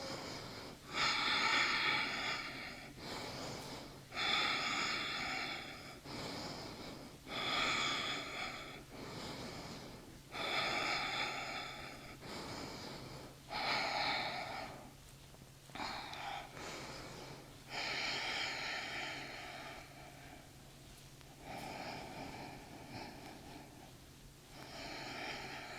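Rhythmic nose breathing during a rebounder workout, with regular bursts of sharp inhaling and exhaling through the nose about every two seconds, fairly close and quiet.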